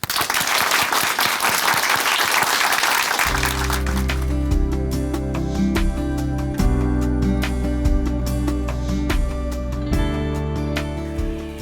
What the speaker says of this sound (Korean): 춘천 한마음교회 강금란 자매님, 큰 박수로 모시겠습니다.